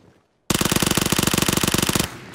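Uzi submachine gun firing in PUBG, one rapid, loud, close burst of evenly spaced shots lasting about a second and a half, with no talking.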